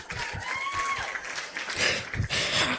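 Audience clapping at a university faculty dean's awards ceremony, a steady broadband patter filling the clip with a voice speaking over it and low thumps mixed in.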